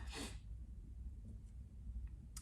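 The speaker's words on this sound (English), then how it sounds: "I don't want to sneeze again." A single sharp sneeze at the start, then faint breathing over a low background hum.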